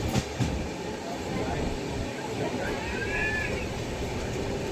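A passenger train rolls toward Bandel Junction past mango orchards. A steady, close rumble and clatter of the carriages goes on throughout, and a brief high wheel squeal rises partway through.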